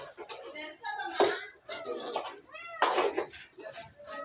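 A house cat meows in a home kitchen while chicken curry is being cooked, several drawn-out and bending meows mixed with soft clatter and faint background voices.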